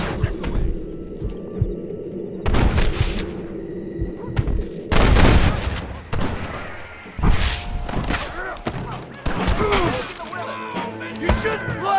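Gunfire and heavy thuds in Red Dead Redemption, loud booming shots and impacts over continuous game noise, with voices talking in between.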